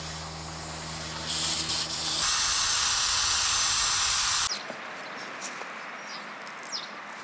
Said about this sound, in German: Ich schraube das Ventil raus, um die Luft abzulassen von dem Reifen.